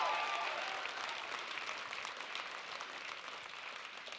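Audience cheering and applauding at a motivational talk, a dense, steady wash of clapping and crowd noise that holds at a fairly loud level for a few seconds and eases slightly toward the end.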